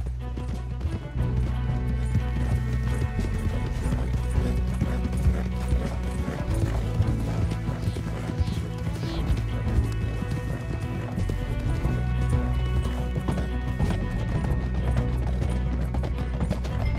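Rapid hooves clip-clop continuously as horses gallop in the video game Red Dead Redemption 2, with a dense rhythmic pounding and a busy synthetic-sounding mix behind it.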